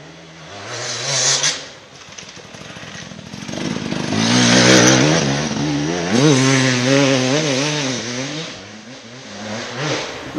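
A motocross motorcycle rounding a corner on a training track: the engine note rises and falls as it revs, swelling loud as it passes close, then fading, with a brief burst beforehand, and no talk.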